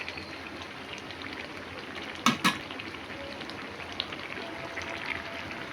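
A soybean and potato curry simmers in a pan with a soft, steady low bubbling hiss, broken by two brief metallic clinks of a utensil near the middle.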